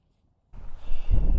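Strong gale buffeting a microphone fitted with a wind muff on an exposed hilltop by a WW2 observation post in Kent, rising from silence into loud, continuous low rumbling gusts.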